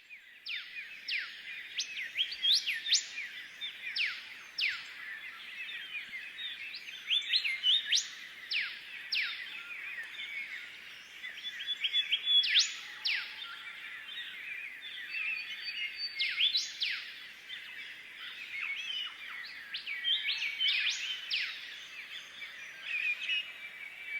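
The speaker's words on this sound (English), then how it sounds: "This is the dawn chorus at Waratah Flat." Dawn chorus of many bird species at Waratah Flat, Australia: dense overlapping chirps, trills and whistled calls, steady and continuous, some singers near and others distant, with no voices.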